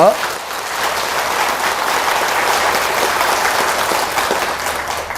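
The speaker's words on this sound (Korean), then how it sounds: "뜨거운 박수 한번 주시기 바랍니다." An audience at a Buddhist dharma talk gives a warm round of applause, a continuous hiss-like wash of many hands clapping, fairly loud and even from start to finish.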